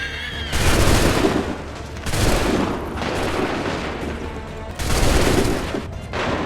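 Rolling musket volleys from massed soldiers in an Assassin's Creed III cinematic, several loud booming bursts spaced a second or two apart, with smoky rumbling tails between them.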